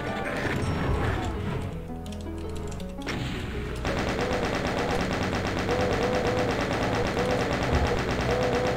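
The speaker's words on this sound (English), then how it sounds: "there's a chain gunner up there" A chaingunner enemy opens up with its chaingun in a Doom-style game, a sustained rapid rattle of shots that kicks in after a few seconds of game sounds and keeps hammering steadily to the end.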